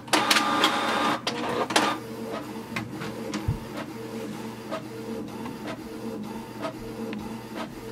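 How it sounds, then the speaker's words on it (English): A Canon TR4540 all-in-one printer prints a page, starting with a few loud mechanical clunks, then running with steady whirring and regular clicking feed sounds close by, with no talk. "So just wait for the printer to start."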